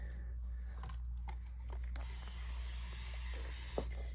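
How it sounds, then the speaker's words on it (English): Quick hissing spritzes from a spray bottle wetting an American Girl doll's hair, several short bursts over a steady low hum, fairly faint and close. "So I'm spraying her hair with water."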